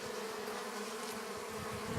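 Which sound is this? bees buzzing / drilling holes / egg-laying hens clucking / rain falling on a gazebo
bees buzzing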